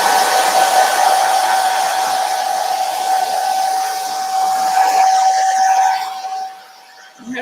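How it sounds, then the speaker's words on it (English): A hair dryer blows with a loud, steady whooshing whine, then cuts off near the end. "I'm actually going to use my hair dryer since it's a larger surface."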